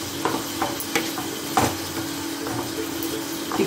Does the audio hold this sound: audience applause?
no